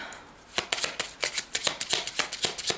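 Tarot cards being shuffled, a quick run of crisp riffling flicks and snaps close by, repeated in an even rhythm after a short quiet start.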